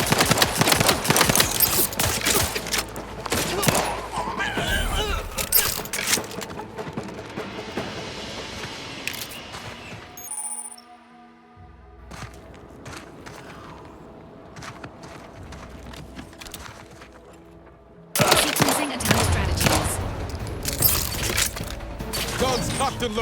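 Gunfire in The Outer Worlds 2, loud clattering bursts of shots at the start, then a quieter stretch of mechanical game sounds before the heavy firing returns near the end.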